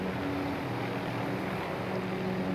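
A helicopter in the Warzone video game drones overhead with a steady, loud rotor and engine rumble that stays constant with no voices over it.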